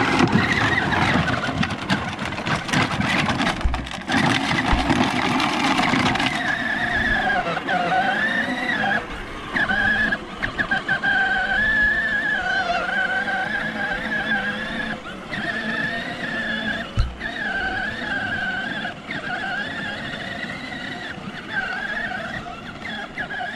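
A Power Wheels ride-on toy car, modded with a 12-volt-to-20-volt drill battery, runs in high gear with a steady loud motor whine and rumble, with occasional scraping and skid-like bursts throughout.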